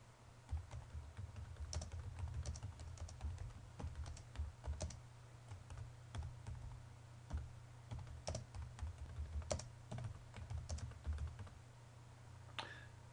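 Steady typing on a computer keyboard, close and fairly quiet, with irregular clusters of key clicks over a low background hum, no talking.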